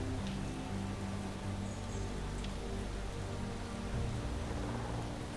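Steady rain falls in the video game Space Engineers, a dense, even hiss of droplets holding at constant loudness throughout with no voices over it.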